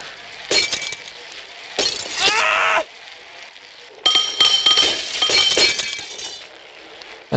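Glass breaking and shattering in the Happy Wheels video game, several separate crashes with bright clinking shards, each burst loud and close, with quieter gaps between.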